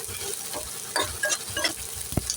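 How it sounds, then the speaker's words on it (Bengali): Chopped onion frying in mustard oil in a wok, with a soft sizzle broken by irregular scraping stir strokes and one sharp tap near the end. "পেঁয়াজটা একটু ভাজা ভাজা করে নেবো।"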